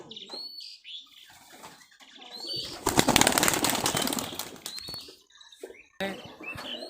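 Giribaj high-flyer pigeons flap their wings in a loud, rushing flurry lasting a couple of seconds, framed by shorter scuffles, chirps and light patter nearby.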